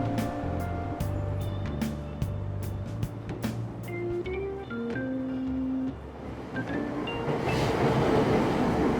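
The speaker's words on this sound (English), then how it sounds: "Train doors are now closing." A subway train in Persona 5 Royal departs a station: steady rumbling motor hum with a rising electric whine as it pulls away, growing louder and noisier toward the end, preceded by a door chime.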